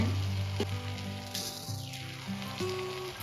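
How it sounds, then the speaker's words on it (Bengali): Mixed vegetables sizzling in an uncovered pan, a close, steady hiss with a few stirring scrapes and clinks over a few seconds. "ঢাকাটা তুলে নিয়েছি এখন আর একটু নেড়ে নেব"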